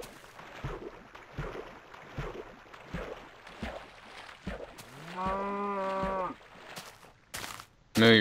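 A cow in Minecraft gives a long, steady, buzzy moo lasting about a second, loud and close, after a stretch of soft rhythmic thumps, with a sharp burst at the very end.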